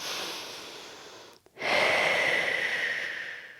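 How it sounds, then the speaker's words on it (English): Slow, deep breaths during a floor stretching exercise: a long breathy exhale, a brief pause of near silence, then a fuller, louder airy breath that carries on steadily, close and unaccompanied by talk. "Breathe deeply."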